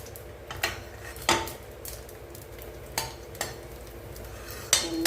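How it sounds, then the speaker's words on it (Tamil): Aval vadam, crisps made from soaked rice flakes, frying in hot oil: a continuous close sizzle broken by several sharp clinks and taps of a utensil against the pan, spaced irregularly, with no voices. "நல்லா பொறிஞ்சு வருது"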